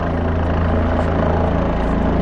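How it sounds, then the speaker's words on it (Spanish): A helicopter's rotor thumps steadily and loudly nearby at Lake Louise in Banff, Canada, a continuous low chopping drone with engine whine as it arrives and lowers a bucket. "Ahí llegó nuevamente el helicóptero"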